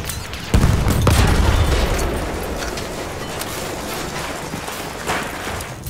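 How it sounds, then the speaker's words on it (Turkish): In Battlefield 1, a thrown bomb detonates with one sudden heavy boom near the start, then a long rumbling tail of distant battle noise and scattered gunfire. "Dikkat, bomba atıyorum."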